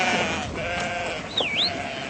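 Sheep at a weekly livestock auction in Ludlow, with a single faint bleat rising above a steady background of crowd murmur and barn noise.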